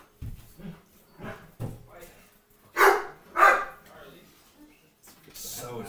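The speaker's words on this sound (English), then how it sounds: "it's such a deep bark" A dog lets out a run of deep, booming barks, five or so short bursts at uneven intervals, loud and close, with people talking around them.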